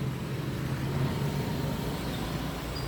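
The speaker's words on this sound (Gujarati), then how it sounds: "ગાડીઓનો અવાજ ને." Morning road traffic passes at a steady distance, a continuous low rumble of cars and heavier vehicles with no distinct pass-bys and no talking.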